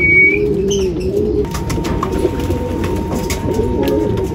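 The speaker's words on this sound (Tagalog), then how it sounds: "Yun, papasok na mga kalapatids." Racing pigeons arriving at the loft after a derby race in Rosario, La Union, cooing in low repeated rolling calls close by, with faint chirps and a steady background hum.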